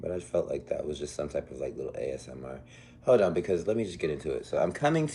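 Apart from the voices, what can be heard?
No everyday noise stands out behind the speech.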